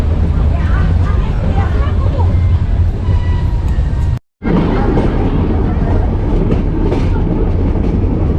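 A passenger train runs on the line from Junagadh to Sasangir, heard from on board: a loud, steady rumble of wheels and carriages with rhythmic rail clatter, broken by one brief moment of silence partway through.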